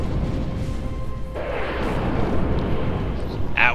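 Missile attack explosions in the space strategy game Sins of a Solar Empire: a continuous rumbling, crackling barrage, loud and close, that grows harsher about a third of the way in and ends with a sharper burst.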